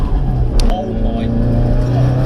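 A modified, uprated Toyota Starlet GT accelerates hard with a loud, close engine drone that climbs in pitch, heard from inside the car as a person talks over it.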